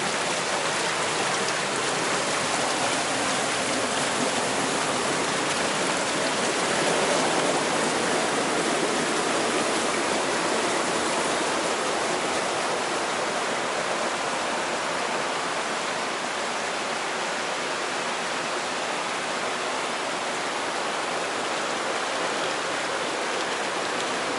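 Water rushes steadily along a mountain stream at a holiday retreat in Benoy, Chechnya, a loud, continuous broadband wash that runs unbroken with no voices over it.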